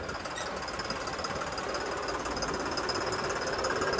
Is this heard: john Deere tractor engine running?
yes